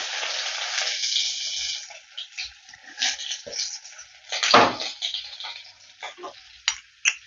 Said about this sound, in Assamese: পিঁয়াজখিনি অকণমান ভাজি ল'ম মই